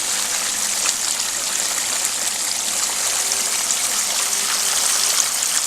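Water pumped by an 800 gallon per hour electric bilge pump rushes steadily down a prospecting run at a lake creek, a continuous close splashing flow with no voices.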